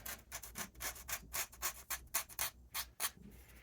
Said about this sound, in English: it needs just a tiny touch of sanding to fit